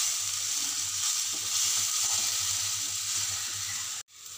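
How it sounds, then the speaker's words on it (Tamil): Masala sautés in hot oil for vermicelli upma with a continuous, close hissing sizzle that cuts off abruptly near the end. "ஆட் பண்ணி இதோட ரா ஸ்மெல் போகிற வரைக்கும் நல்லா வதக்கிக்கோங்க."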